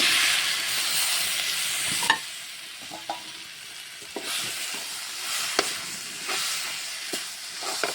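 Tomatoes and onions sizzle in a pan with a soft steady hiss, punctuated by occasional sharp clicks and scrapes of a spoon stirring, close and moderately loud with no talking.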